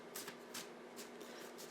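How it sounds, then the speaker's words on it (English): A handmade tarot deck being shuffled by hand, its stiff cards giving several soft, brief riffling bursts at a steady rhythm, fairly quiet and close, with no talking. "It's really hard to shuffle these."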